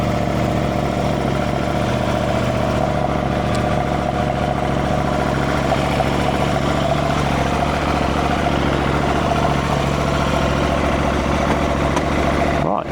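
A motorbike engine idles steadily and loudly close by for the whole stretch, a constant low rumble with no change in pace until it cuts off at the very end.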